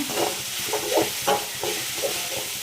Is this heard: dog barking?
no